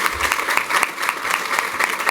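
An audience at a formal luncheon applauds the venue's catering staff with steady, dense clapping that stays even for the whole stretch and has no gaps.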